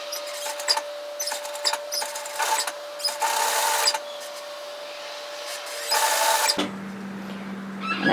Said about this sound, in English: I'm going to tack stitch this in at 5mm, which is foot width